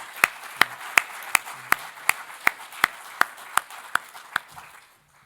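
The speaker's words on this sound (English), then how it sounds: "we're going to give them a round of applause anyways" Slow, evenly spaced claps at an awards luncheon, about thirteen sharp close hand claps in a steady rhythm over a quiet room before they stop.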